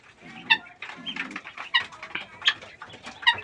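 Hungry pigeons in a loft give short, close calls and murmuring coos in quick bursts, mixed with other fowl-like chirps, with no people talking.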